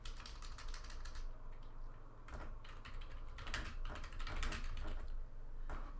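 Rapid keystrokes clatter on a computer keyboard as a report name is typed, coming in quick close bursts with brief pauses between them.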